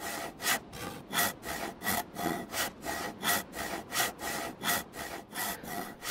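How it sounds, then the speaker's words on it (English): Hacksaw cutting through a base lock in the video game DayZ, steady rhythmic back-and-forth rasping strokes, about eight evenly spaced strokes, close and alone with no talk. "But with the hacksaw, it will actually allow you to cut"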